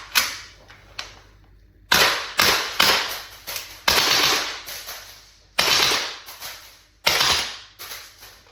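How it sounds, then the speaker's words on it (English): A Double Eagle Noveske N4 gas blowback airsoft rifle fires full auto in several short, loud, close bursts of rapid mechanical cracks, separated by brief pauses, with no speech. "And now we're gonna do some full auto."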